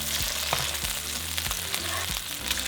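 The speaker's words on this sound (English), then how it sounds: "And now set your meat in the frying pan." A burger meat patty sizzles and fries steadily in a pan, a close, continuous crackle with a few brief clinks of handling and no talking.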